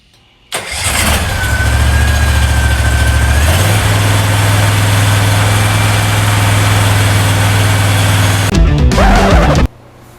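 A repowered SCAG Turf Tiger zero-turn mower engine cranks and catches, then runs loud and steady before cutting off near the end.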